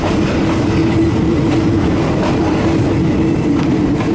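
A passenger train on the Nam Tok to Thonburi line, just out of Nam Tok station and running through light fog, gives a continuous loud rumble with faint clickety-clack of wheels over the rails, no talk.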